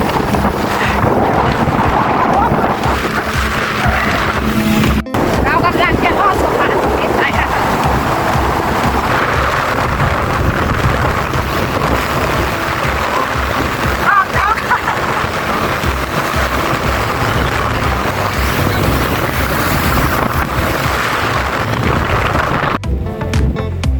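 Riding in a boat across the water, a loud, steady engine and water roar continues throughout, buffeted by heavy wind rumble on the microphone.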